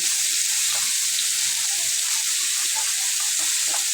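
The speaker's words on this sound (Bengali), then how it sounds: "তো দেখো আমি মাছ ভাজাটা বসাতে গিয়েছি" Fish fries in hot oil in a home kitchen, a loud constant crackling hiss without any pauses, ahead of a curry with potato and spiny gourd.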